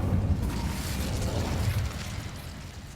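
In Hogwarts Legacy, the Incendio fire spell bursts out as a rumbling whoosh of flame, loud at first and slowly fading over a few seconds.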